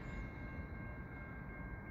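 A long CN freight train rolls through Point St. Charles in Montreal in winter, heading for the bridge over the Lachine Canal. It makes a faint, steady rumble with a thin sustained tone and no talking.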